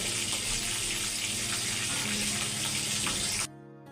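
Chicken pieces frying in hot oil for chicken biryani, a steady, loud sizzle with a watery hiss that runs evenly and then drops away abruptly near the end.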